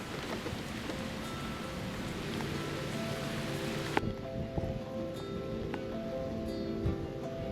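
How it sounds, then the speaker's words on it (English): Steady rain patters on surfaces with occasional louder drops, a soft continuous hiss that turns slightly quieter and more muffled halfway through. "It is officially raining."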